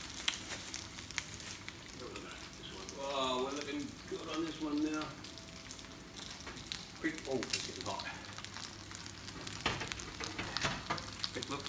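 Potatoes fry with thyme in a pan as a gluten-free breakfast pizza base, making a faint, continuous sizzle with scattered pops under a person's talking.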